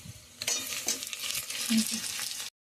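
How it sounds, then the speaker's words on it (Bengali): Garlic frying in a pan with chopped onion while being stirred for a Bengali soybean Mughlai paratha filling, a steady close sizzle with scraping strokes before it cuts off near the end. "এবার আমরা রসুনটাকে দিয়ে দেবো"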